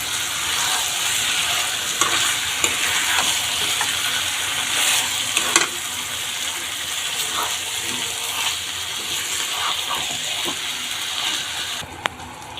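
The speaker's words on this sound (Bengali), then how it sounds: "মাংসগুলো দিয়ে এবার একটু নাড়াচাড়া করে নিচ্ছি" Marinated chicken pieces are stirred in a hot pan. A steady loud sizzle runs under scattered scrapes and clacks of a spatula turning the meat, and no voices break in.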